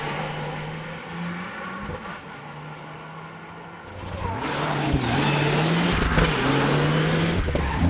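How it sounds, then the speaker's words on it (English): A Mitsubishi Evo rally car drives a special stage of the 2011 Pokerstars Rally, its engine note rising and falling as it accelerates. The sound grows louder and fuller partway through, with no talk. "Tim Collins and Paul McCann in another Mitsubishi Evo currently lie in 3rd overall."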